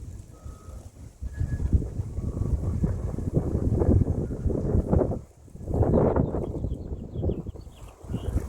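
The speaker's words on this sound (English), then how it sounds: "The wind is crazy" Strong gusts of wind batter the microphone outdoors in rough, loud surges, dropping briefly twice before roaring back, with no talk.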